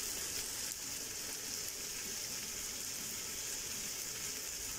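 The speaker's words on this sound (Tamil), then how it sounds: "புதினா கொத்தமல்லி எல்லாம் நல்லா வதங்கிருச்சு." Mint and coriander leaves sautéing in a pan for chicken biryani, a steady, even sizzle with a bright hiss that runs unbroken and fairly soft throughout, with no voices.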